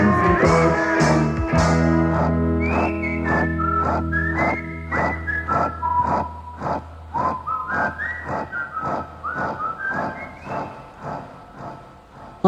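A person whistles the tune Kaiser Bill's Batman as a clear solo melody of short rising and falling notes, over a sustained musical backing that cuts off into a brisk, staccato whistled phrase.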